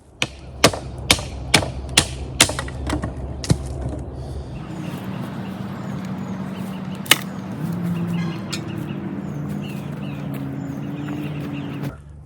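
A wooden bow drill spindle used as a baton strikes wood in about seven sharp, evenly spaced knocks, loud and close, followed by quieter shuffling and a single later knock.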